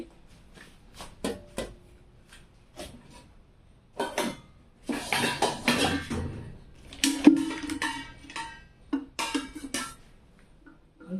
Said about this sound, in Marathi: अशी चाळणी घ्यायची.